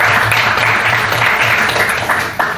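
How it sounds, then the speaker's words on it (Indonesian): A short burst of steady applause from a room of people clapping for a presenter in a meeting, dense and continuous before tapering off at the end. "Kita beri aplaus untuk Stevie"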